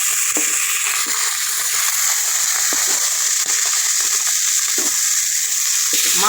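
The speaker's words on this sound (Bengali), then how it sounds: "মাছটা লাল লাল করে ভাজা হয়ে গেছে" Pieces of rohu fish, rubbed with turmeric and salt, fry in a kadai with a constant close-up sizzle and occasional soft clicks from stirring or turning, with no talking.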